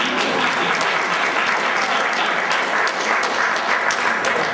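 An audience at a governor's bill signing applauds in a loud, dense, continuous wash of clapping that holds steady throughout without a break.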